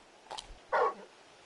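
Torgal, a large wolf-like hound in Final Fantasy XVI, lets out a couple of short barks, a small yip followed by a fuller, louder bark, close and alone.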